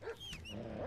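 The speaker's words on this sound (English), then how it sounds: "Oh, hello, that is a wolf." A wolf in a video game snarls and yelps in a brief, close burst of growling and whining cries during an attack.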